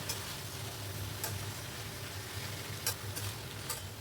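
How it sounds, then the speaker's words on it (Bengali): Cumin powder and chili stirred in a cooking pan make a faint, steady frying hiss with a low hum beneath. Several brief scraping ticks from the utensil occur at irregular intervals. "সমস্ত কিছু দিয়ে একটু নাড়িয়ে নিচ্ছি"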